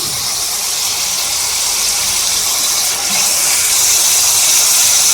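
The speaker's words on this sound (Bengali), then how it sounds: "এই কচু শাক একটু ভাপ দিয়ে নেবো তার জন্য একটু কড়াইতে জল দিয়ে দিয়েছি" Steady hiss of water steaming in a wok to steam taro leaves, continuous and fairly loud throughout with no talking.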